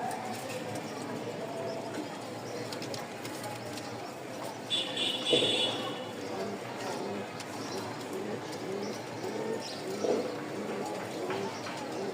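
Pigeons in a loft coo faintly and intermittently in the background, with quiet talk and low room noise throughout.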